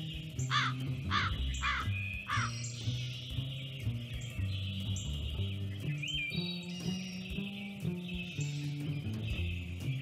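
A crow caws several times in quick succession at the start, then calls again more sparsely, heard over steady background music.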